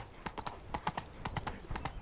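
Roach, a horse in the video game Witcher 3, gallops with a steady, rhythmic clip-clop of hooves, close and clear, repeating hoofbeats with no talking over them.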